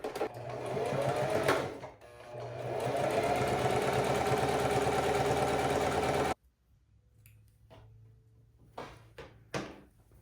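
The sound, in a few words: sewing machine stitching a linen pants waistband side seam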